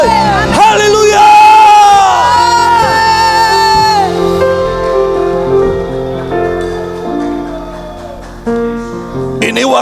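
Joyful shouting from a church congregation during a Sunday service: a big crowd of voices whooping and calling out over sustained music, loudest at the start, then easing into a softer murmur of cheers.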